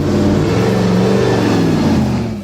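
A 1,183-horsepower V8 engine of an SSC Ultimate Aero TT revs loudly and steadily, a dense, continuous engine roar throughout with no talk.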